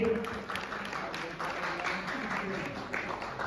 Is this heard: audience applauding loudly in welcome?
yes